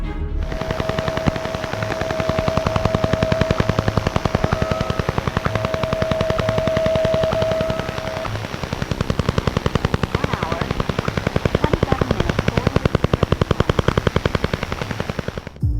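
A relentless rapid pulsing buzz of shortwave radio interference repeats in an unchanging rhythm, with a thin steady whistle tone running through the first half.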